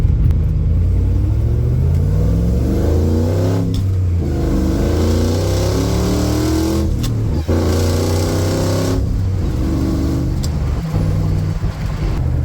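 A project car accelerates hard through several gears in a test pull, its engine rumbling and climbing in pitch repeatedly with brief breaks at each shift, loud and close throughout.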